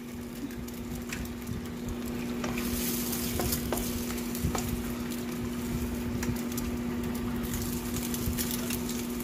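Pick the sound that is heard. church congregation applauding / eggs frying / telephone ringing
eggs frying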